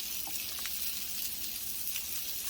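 Salmon sizzling steadily in a hot frying pan, a dense, even crackle of fat and oil with a few faint pops, close and moderately quiet with no talking.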